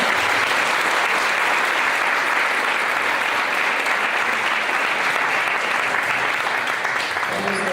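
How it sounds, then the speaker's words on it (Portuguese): Sustained audience applause fills a lecture hall after a talk on family systems and drug use, a dense steady wash of many hands clapping at full loudness throughout with no pause. "Uma salva de palmas para você."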